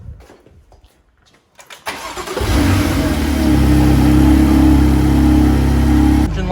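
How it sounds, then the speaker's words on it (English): A BMW M2 CS fitted with Eventuri intakes makes its first start-up. There are a few faint clicks, then the starter cranks and the engine catches with a loud flare before settling into a steady, deep, throbbing idle close by. "All right, Darryl, let's get this first start up."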